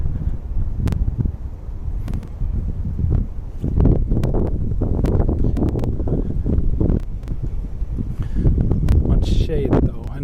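Wind blows in gusty, rumbling bursts across the microphone in a central Tokyo city park near Shibuya, steady throughout while a person talks.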